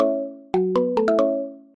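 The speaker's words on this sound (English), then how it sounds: "sounds like we should charge on over to Rocky and give him a call" A phone ringtone places a call, a short melodic run of five or six bright electronic notes stepping upward over a sustained chord, clear and close with no talk.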